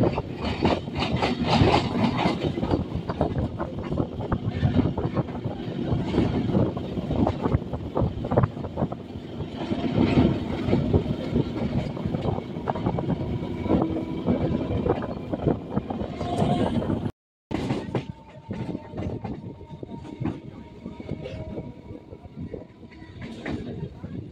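A Kolkata local train from Dum Dum to Ballygunge rattles along with a continuous loud rumble, wheels clattering on the rails and carriage noise, broken by a brief dropout, while passengers talk faintly in the background.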